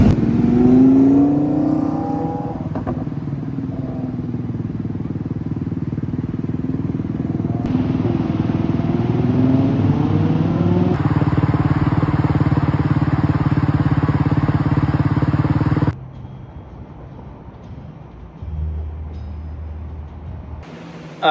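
IceBear Maddog motorcycle fitted with a new drop shock, ridden on the road: a steady engine drone with rising and falling pitch as it shifts and accelerates, loud and continuous, then dropping to a lower rumble near the end.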